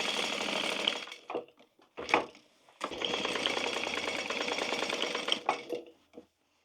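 Sewing machine back stitching a tote bag seam, running in several short bursts of rapid needle rattle separated by brief pauses, close and clear with no talking.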